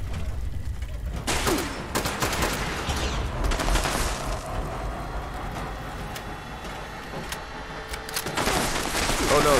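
Rapid bursts of turret gunfire and mechanical clatter in the video game Fallout 76, dense and loud throughout with sharper volleys near the start and end.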